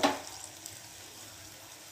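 Asafoetida and curry leaves hit hot oil for a tempering, a short burst of sizzle that quickly settles into a soft, steady frying hiss, close and fairly quiet.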